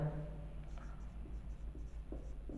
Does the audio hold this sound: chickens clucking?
no